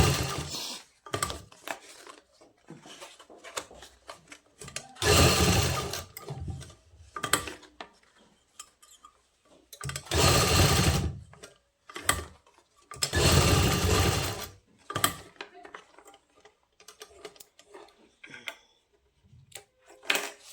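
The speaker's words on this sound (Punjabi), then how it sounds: "ਇੱਕ ਦੂਜੇ ਦੇ ਉੱਪਰ ਰੱਖ ਕੇ ਸੀਨ ਲਗਾ ਲੈਣੀ ਹੈ" A sewing machine stitches a seam through two layered plastic sheets, running in bursts of rapid mechanical clatter separated by pauses and handling clicks, close and alone.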